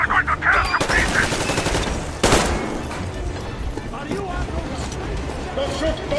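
Rapid bursts of gunfire from the video game Metro Exodus, some of them fully automatic, pile up in a loud, chaotic firefight. Shouting voices and a sharp boom near the midpoint cut through the shots.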